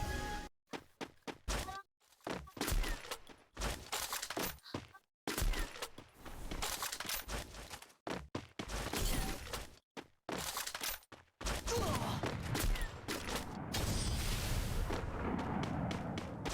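Sniper rifle shots in the Free Fire battle royale game, loud sharp cracks repeating in irregular bursts amid dense in-game explosions and effects, ending in a sustained roar of action.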